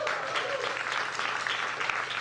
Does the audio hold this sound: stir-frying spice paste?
no